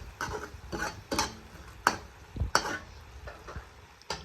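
Egg chilli being stirred in a pan with pepper powder and coriander leaves: a spoon scraping and clinking against the metal in irregular strokes over a faint sizzle, fairly quiet and with no talking.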